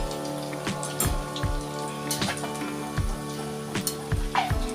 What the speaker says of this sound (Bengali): তেল ছিটকে ছিটকে একদম হাতে পড়ে গেছে,